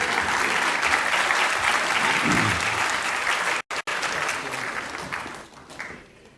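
A university staff assembly audience claps in a sustained, loud burst that stays steady, briefly cuts out, then tapers off toward the end.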